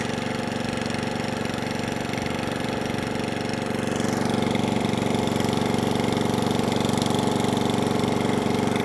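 An Atco Balmoral cylinder lawnmower, running on half choke with old fuel and prone to cutting out, drones steadily and loudly at close range with a slightly uneven, rough tone.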